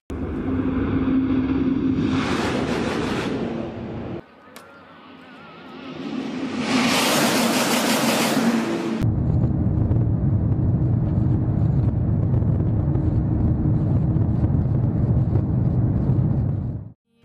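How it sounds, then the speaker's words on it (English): A fast train in the video game TPT2 rushes past as a loud roaring, rumbling sweep with a bright whooshing surge, a brief dip, then a heavy sustained low rumble that cuts off abruptly at the end. "now let's see how fast the train speeds by"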